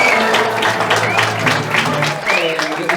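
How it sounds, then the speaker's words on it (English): Warm studio audience applause for a comedy game-show segment, mixed with music and a host's voice talking over it throughout. "Please, round of applause for Joke Off."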